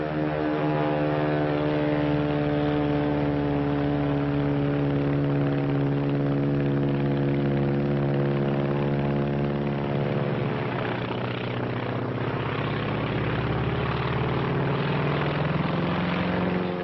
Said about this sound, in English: That's a Zero, the real McCoy.